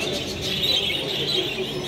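Many budgerigars, including English standard birds, chatter and chirp at an exhibition in Irapuato, Mexico. Their calls form a dense, continuous twittering wash with no single call standing out.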